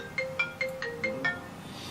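A mobile phone ringtone repeats about six times in steady pulses, a clear electronic melody ringing nearby and loud, with no talking over it.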